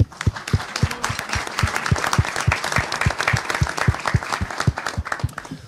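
A crowd at a local candidates forum applauds steadily, many hands clapping close and fairly loud in a continuous patter with strong, almost rhythmic claps punctuating it, with no talk over it.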